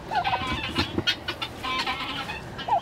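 Farm fowl such as turkeys and chickens call steadily in their pen on a chilly morning, with gobbles and clucks rising close and loud over a constant backdrop of flock chatter.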